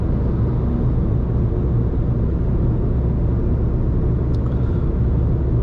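An Alfa Romeo MiTo cruises at night on the Autobahn in fifth gear around 2000 RPM, a loud, steady low engine drone blended with road and wind rumble, unbroken throughout.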